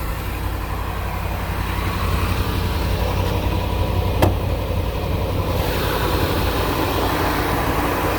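A cold 2012 Range Rover Sport Autobiography idles at a raised initial RPM, a steady broadband engine rumble with a faint tick midway, close and continuous with no talk.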